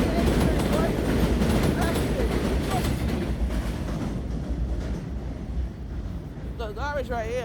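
Loud rumble and screech of an A train subway car in motion, heard from inside, with someone talking over the noise and the rumble easing toward the end.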